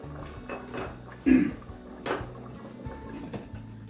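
A spoon clanks and scrapes in a pot as tomato puree is mixed into beef curry, several close metallic knocks over low kitchen background.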